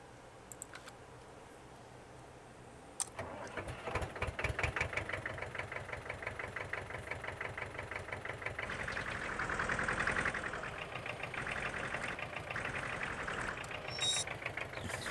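A small garden tractor engine in a farming video game starts up and chugs along with a rapid, rattling putter that stays steady, rising slightly midway.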